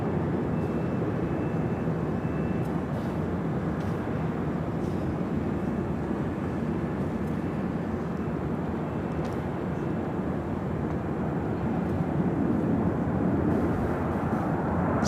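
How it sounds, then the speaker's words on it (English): United Airlines Boeing 737-900ER taking off from the south side at LAX bound for Denver, a sustained low engine rumble and roar swelling slightly toward the end, with faint scattered clicks and no talk. "Next takeoff here on the south side is United Airlines Flight 1897 heading to Denver, Colorado"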